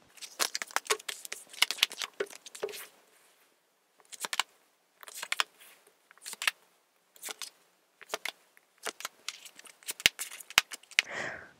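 Tarot cards being shuffled and drawn by hand, with bursts of crisp papery flicks and snaps coming in irregular clusters separated by short pauses, close and fairly quiet, with no voice.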